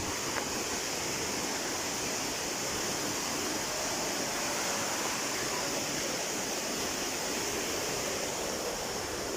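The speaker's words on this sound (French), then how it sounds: "Oh, les cascades de fou." Waterfalls roar as a steady, dense wash of rushing water that holds constant and fairly loud throughout, with no voices over it.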